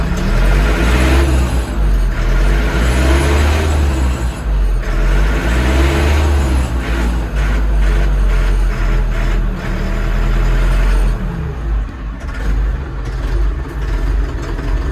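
A Kentavr 504 tractor engine runs steadily and loudly while the tractor drives, a continuous rumbling drone with slight shifts in pitch and load.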